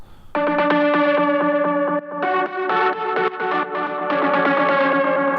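Distorted, sustained synth tones ring with a sidechain-compressed echo that pulls back while notes play and swells into the gaps between them.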